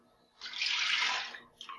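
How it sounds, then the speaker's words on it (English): Chocolate milk poured from a container into a pan of melted butter and rice, a single steady splashing pour of about a second, close and fairly quiet, with a short trickle at the end. "take your reserved chocolate milk with extra starch and pour it in."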